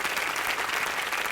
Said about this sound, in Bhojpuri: जोरदार तालियां इनके लिए और भैया के लिए।